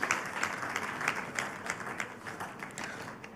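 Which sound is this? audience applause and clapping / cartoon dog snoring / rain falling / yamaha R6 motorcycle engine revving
audience applause and clapping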